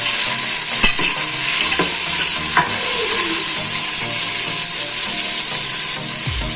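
Onions for a mutton pulao fry loudly in a pan, a continuous close sizzle with a few scraping stirs of a spoon. No one speaks.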